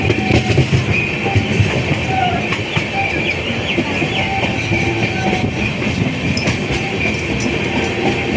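A passenger train hauled by a WAP-4 electric locomotive, a continuous loud rumble with rhythmic clickety-clack of wheels over rail joints and a faint high whine throughout.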